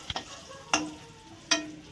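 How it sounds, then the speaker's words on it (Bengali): A low sizzle of potatoes frying in oil, broken by three sharp clinks of a utensil against the pan at roughly even intervals. "আলুগুলো আমি এখন একই তেলে ভেজে নিচ্ছি"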